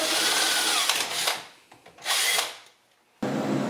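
A power drill bores holes in a metal bracket during a 1976 Mazda RX-5 Cosmo restoration, with loud sustained whirring bursts separated by brief pauses and a sudden restart at the end, no speech.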